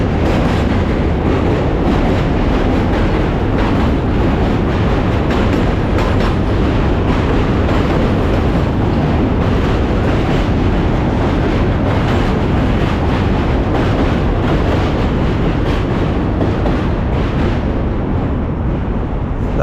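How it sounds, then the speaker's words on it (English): A Q line subway train crosses the Manhattan Bridge from Manhattan toward Brooklyn, a loud, close, continuous roar with rumbling low end and rhythmic rattling of the cars on the tracks, sustained for the whole stretch. "That was a Q line going from Manhattan over to Brooklyn to DeKalb"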